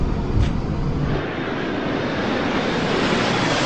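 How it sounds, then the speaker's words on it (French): A fixed-wing airliner on flight 708 to Martinique roars loudly and steadily during its takeoff run, a broad continuous engine rumble with no voices over it. "Le vol 708 à destination de la Martinique prend son envol à 1 heure du matin."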